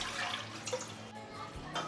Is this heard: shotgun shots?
no